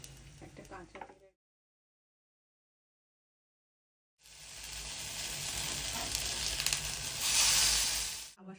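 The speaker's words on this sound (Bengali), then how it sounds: "প্রথমে অল্প তেল নিয়েছিলাম, তারপরে উপরে আর একটু তেল ছড়িয়ে দিলাম।" Poppy seed fritters fry in a pan of oil, giving a steady, close sizzle that grows louder toward the end, after a brief stretch of sound and then a few seconds of silence.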